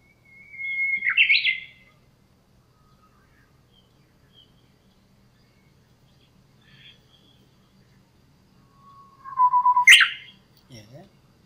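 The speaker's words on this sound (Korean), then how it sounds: "지금 이 휘파람새입니다." Recorded song of a Korean bush warbler, two clear bursts: a sustained whistle ending in a sharp rising flourish, then a long lower whistle into a bright trill, separated by quiet.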